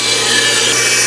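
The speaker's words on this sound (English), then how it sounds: "We're gonna cut this to 14 inches long and then take it back over to the table saw" A saw cuts through a scrap piece of wooden picket, a loud, dense, unbroken hissing rasp of blade on wood that fills the brief moment at close range.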